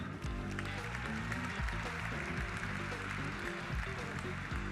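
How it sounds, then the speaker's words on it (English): Applause rises from the room at the Arch Grants Nexus 2023 gala, a soft, steady patter of many hands heard from a distance under a low murmur of crowd noise. "Can we get a round of applause for that?"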